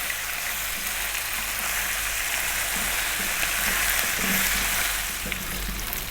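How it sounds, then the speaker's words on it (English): Mutton masala frying over medium heat, stirred often: a steady, close sizzle runs throughout with faint scraping as the pan is stirred, at even loudness and without talk. "So above medium heat, about 4 minutes or so, stirring often."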